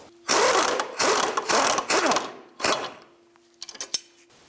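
A 20mm jam nut being spun off the inner tie rod of a 2003-2009 Subaru Outback, heard as a run of close, loud ratcheting, scraping metal bursts with short pauses and a few quieter ticks at the end.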